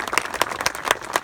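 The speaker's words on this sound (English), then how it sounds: "Please give them a round of applause." Applause from an audience at a public event with the governor and state representatives, a brief burst of steady, dense clapping close by.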